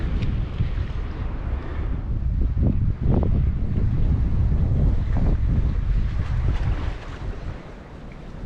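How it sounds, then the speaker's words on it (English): Strong wind buffets the microphone at a jetty in South Australia facing Penguin Island, with big waves rolling in beneath a steady, loud roar of gusts and surf. "A little bit windy out here, some big waves coming in."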